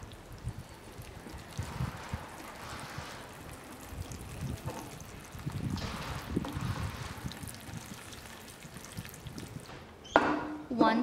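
Rainwater pours from a watering can onto dry cocoa coir in a bucket, giving a soft, steady trickle and splash with uneven surges, fairly quiet and close.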